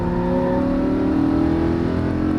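A Lamborghini Huracan LP610-4 engine revs hard on a racing track. The loud, close, steady engine roar rises in pitch as the car accelerates, with no talking over it.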